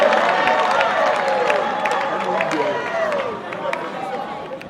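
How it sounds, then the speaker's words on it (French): Crowd applause at a Congolese state diploma ceremony, broad clapping and murmuring from a large audience that swells at first and then slowly fades, with a voice audible over it. "Applaudissons pour cette annonce qui se confirme."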